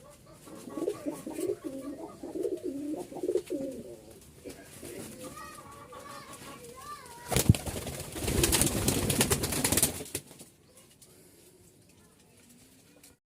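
Tumbler and Racer pigeons coo in bursts close by. A loud rush of noise, like flapping wings, cuts in midway, and the sound then fades to quiet.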